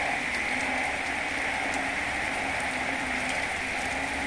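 Rain falling with a dense chorus of calling frogs, a constant layered drone of overlapping croaks over the steady patter, continuous and fairly loud with no voices.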